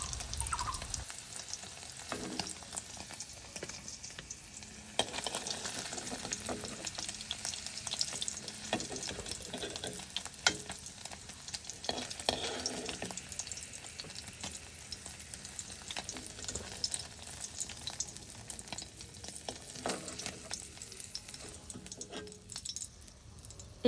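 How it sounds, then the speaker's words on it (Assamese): Paneer pieces fry in a kadai for matar paneer. A continuous close sizzle is broken now and then by stirring and scraping in the pan, and no one speaks. "পনীৰটো অলপ সাৱধানে ভাজিব লগা হয়"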